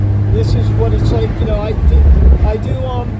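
Low, steady exhaust drone from a 2015 Porsche 911 Turbo S (991.1) with a modified exhaust, driven top down, rumbling continuously while someone talks over it throughout.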